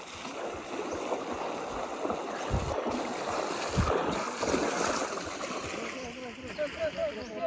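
The first of seven rivers along a jungle trekking track rushes and splashes in a steady, loud wash of water, with occasional bumps and splashes nearby.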